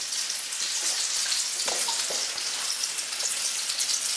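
A cranberry salsa of lemon juice, sugar, ginger, jalapenos, green onions and cilantro sizzles and bubbles in a pan as it comes to a boil, a steady bright hiss with a few soft pops.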